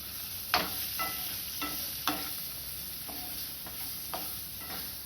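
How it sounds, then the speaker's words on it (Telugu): Sweet potato pieces fry in a kadai, giving a steady close sizzle with a few sharp crackles and pops spaced through it; no one speaks. "మంచిగా చక్కగా ఫ్రై అయిపోతున్నాయి చూడండి"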